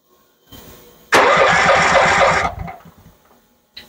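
A Honda GX390 engine cranks over on its electric starter in one loud, rhythmic burst of about a second and a half, then stops. The engine does not catch.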